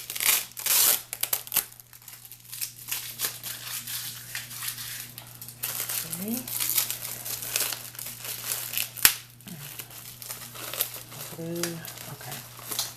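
A plastic planner mystery bag crinkles and crackles loudly as it is handled and pulled at up close, with irregular bursts of rustling over a low steady hum and occasional quiet voice sounds.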